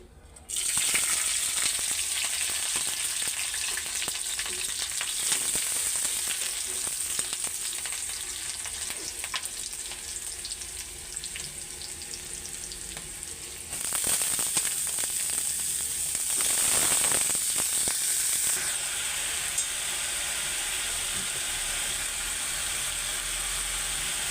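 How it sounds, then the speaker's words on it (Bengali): Vegetable bhaji fries in hot oil with onion and green chilli, a loud, continuous close-up hiss and crackle that runs throughout and swells again partway through. "তেলও গরম হয়ে গেছে আমি এখন ভাজিটা কইটা নিই"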